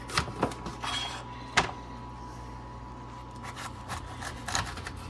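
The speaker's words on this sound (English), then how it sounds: "I'm going to show you how I cut up my peppers. That first thing I'll cut the ends off." Knife cutting the ends off bell peppers on a board: a few sharp, close chopping taps spaced apart, with quiet kitchen background between them and no talking.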